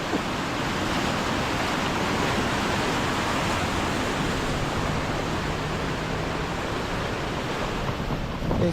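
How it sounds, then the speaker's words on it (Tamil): Strong, steady rushing of the flooded Kaveri River in Mysore, loud and continuous throughout with no pauses. "ஏ அப்பா செமையாக தண்ணி போகுது"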